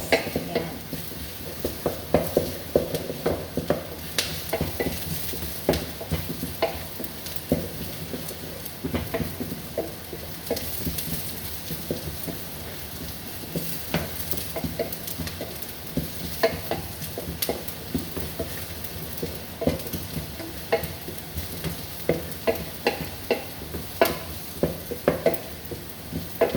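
Onions and garlic fry in a pan for a Filipino meat dish, a steady close sizzle broken by frequent scraping stirs and light clinks of the spoon against the pan, with no talk throughout.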